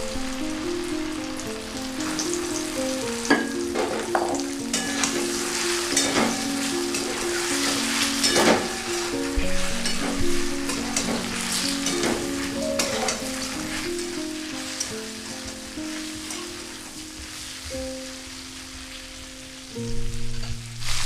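Elephant apple (chalta) pieces fry with red chilli powder and dried chillies in a pan over a medium gas flame, a steady crackling sizzle with repeated stirring scrapes and clinks, plus some soft background music.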